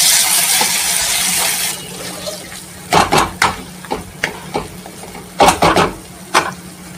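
Amaranth leaves cooked with salt and sorghum grits sautéed in a pan, a soft sizzle fading early, then a series of sharp utensil scrapes and clinks against the pan.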